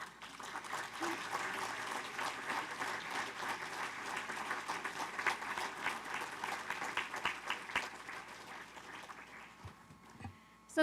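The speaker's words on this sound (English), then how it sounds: "please give them a round of applause" Applause from a seated audience honoring Paramount City staff at a state of the city event, a fairly soft, distant, continuous patter of many hands that thins out toward the end, followed by a brief clatter near the microphone.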